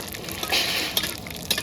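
Whole cumin, bay leaf and dried chilli sizzle hard in hot oil for a dal tempering, a loud, close, steady crackle with brief sharper pops.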